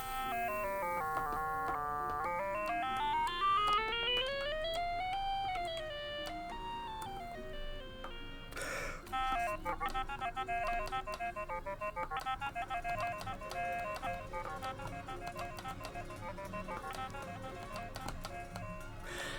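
A clarinet played through Clarimate practice headphones held near a microphone gives a thin, electronic-sounding melody. Sweeping runs are followed by quicker, choppier phrases, faint and steady, with no speech.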